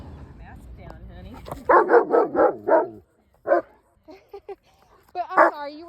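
A dog barks in a quick run of about five sharp yelps, then a single bark and another near the end, close and loud, with talk and low background noise between them.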